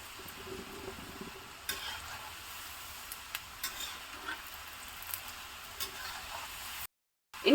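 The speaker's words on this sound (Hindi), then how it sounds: "तो तेल गरम हो चुका है और अब चलिए हम डालते हैं थोड़ी थोड़ी करके" Namakpare (mathri) dough pieces fry in hot oil in a kadai, a steady soft sizzle and crackle with occasional stirring scrapes, close and moderately quiet.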